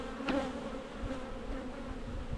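Honeybees buzz in a steady, close drone around an open, fast-growing hive, a dense hum of many wings with no voices.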